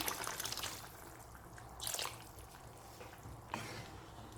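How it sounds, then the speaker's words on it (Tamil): Water poured into a pot of tamarind curry with long beans, a faint trickling and splashing in soft bursts, quiet and close with no voices. "நான் கொஞ்சமாக தண்ணி சேர்த்துக்கிறேன்"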